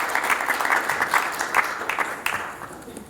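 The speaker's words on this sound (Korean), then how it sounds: "박수로 좀 맞이해 주시기 바랍니다" Applause welcoming a university president at an inauguration thanksgiving service, a brief round of clapping with distinct claps standing out, gradually tapering off.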